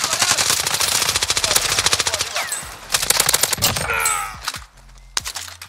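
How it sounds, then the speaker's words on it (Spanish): Enemy gunfire in a video game: loud, close rapid-fire automatic bursts crackle continuously, break off briefly, then resume in shorter sharp volleys. "El enemigo me dispara."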